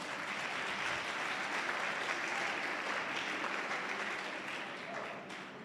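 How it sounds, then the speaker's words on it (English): A crowd at a youth empowerment weekend event in Upington, Northern Cape, applauds in a steady, dense burst of clapping that holds evenly for several seconds before tapering slightly at the end. "It was Mayor and Mr. Titis who clapped."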